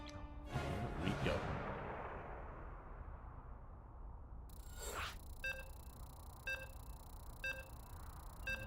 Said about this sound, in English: So you can hear the beeps.